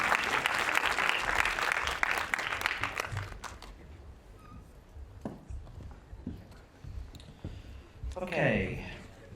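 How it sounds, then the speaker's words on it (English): At an animation awards night, a crowd applauds a team of winners with a dense round of clapping that tapers off after a few seconds, followed by scattered claps and shuffling in a quieter room, then a voice at the end. "let's give the lads a round of applause"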